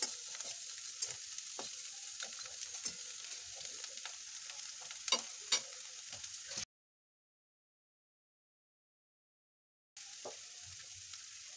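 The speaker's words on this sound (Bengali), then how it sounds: "এবার এটা আমি ভেজে নিচ্ছি হলুদটা।" Turmeric and chili frying in a pan, a low, steady sizzle dotted with light clicks and taps of a spatula, quiet and close, broken by a few seconds of total silence before the sizzle returns.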